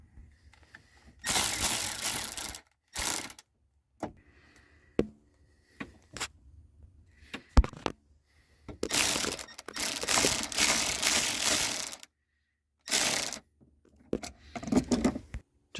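Bursts of ratchet clicking from fastening dash parts back into a 2007.5–2013 Chevrolet Silverado/GMC Sierra, several loud close spurts separated by brief pauses, with no one speaking.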